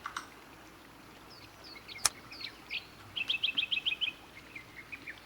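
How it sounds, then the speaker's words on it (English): Scattered bird chirps in the video game Botany Manor over a quiet background, then a quick run of about eight evenly spaced tweets, with one sharp click partway through. "Because you don't always hear birds like constant like that."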